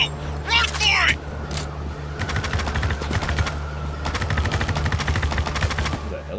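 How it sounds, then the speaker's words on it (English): Gunfire in the Spec Ops The Line video game: rapid machine-gun bursts crackle in dense volleys over a rumbling engine and music, loud and close, with a brief voice early on. "Who the hell is shooting at me?"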